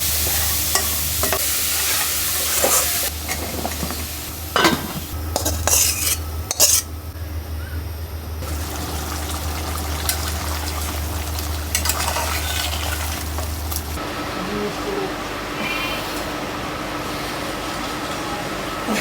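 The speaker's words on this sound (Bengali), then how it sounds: "লবণ মরিচের গুঁড়া হলুদের গুঁড়া ধনিয়া গুঁড়া জিরা গুঁড়া রসুন বাটা আদা বাটা মশলাটাকে ভালো করে কষাতে হবে" Spice paste of garlic and ginger paste with chili, turmeric, coriander and cumin powders, fried and stirred in a pan: a steady sizzle with scraping spatula strokes and occasional clinks against the pot, with a low hum for the first part.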